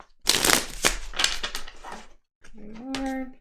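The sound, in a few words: shuffling cards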